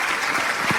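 Brief burst of audience applause for a singer on a radio-TV music show, a short steady wash of clapping with no speech.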